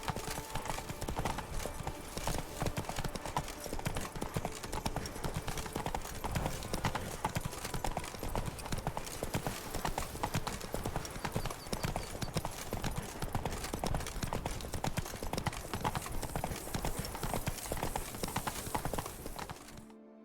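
Roach the horse's hooves clip-clopping steadily in The Witcher 3: Wild Hunt, a continuous rhythmic trot over a dense game soundscape lasting the whole stretch, with occasional voices.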